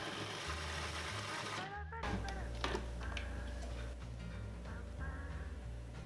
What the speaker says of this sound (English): And blend it until it becomes a paste.